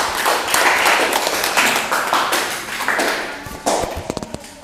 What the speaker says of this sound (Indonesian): Oke, beri tepuk tangan untuk kelompok 1.